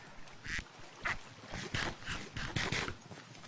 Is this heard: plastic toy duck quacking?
yes